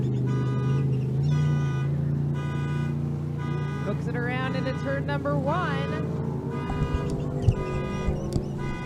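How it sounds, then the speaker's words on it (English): A car alarm, set off by racing boats, blares in repeated pulsing bursts and warbling tones amid loud boat engine drone, with someone talking over it. "alarm going off. Those boats set off somebody's car alarm."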